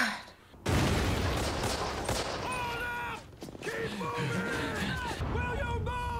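Battlefield gunfire from a war film, with bullets flying: dense, loud crackling bursts of shots and impacts that keep going throughout, with a short lull near the middle, as shouting voices call out over the din.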